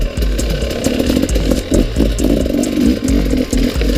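KTM enduro motorcycle ridden on a rocky trail, its engine buzzing close and loud with rapid rising and falling revs in an uneven, choppy rhythm.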